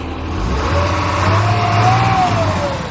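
A 1994 Chevy Kodiak wrecker truck's engine runs steadily with a rising and falling whine from the transmission with the clutch engaged and PTO disengaged, close and fairly loud, with no talking.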